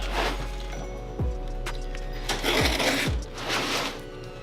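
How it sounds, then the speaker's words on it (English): A knife cuts open the packaging of a Canon 24-70mm F4 IS USM lens, with a few short scraping and tearing strokes, some sharp clicks and rustles over a low steady hum. "Got my trusty knife here. Let's open her up."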